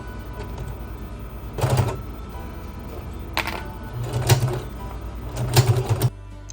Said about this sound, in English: And then it's back to the sewing machine to stitch the bottom seams.